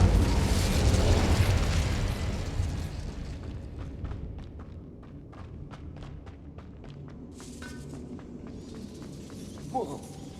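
Incendio fire spell cast in Hogwarts Legacy, a loud roaring burst of flame that fades into scattered crackles and small pops, with no talking.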